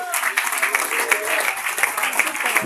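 A church congregation at a bishop's anniversary service in Ecuador bursts into sustained applause, a dense wash of clapping mixed with raised voices and cheering throughout.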